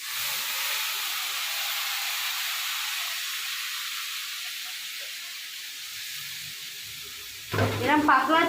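Spices for a Bengali fish curry tempering in hot oil, a steady hiss and sizzle that fades slightly over several seconds, then a louder burst of crackling frying near the end as more goes into the pan.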